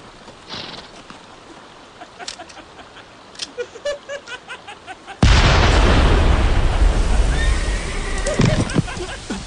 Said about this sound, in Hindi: तुम लोग पानी में आरपीजी कैसे शूट कर सकते हो?